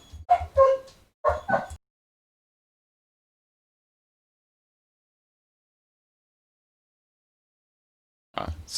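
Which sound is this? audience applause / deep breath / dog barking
dog barking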